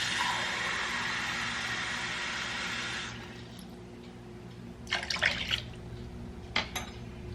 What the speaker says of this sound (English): Next, I put in 2 cups of water.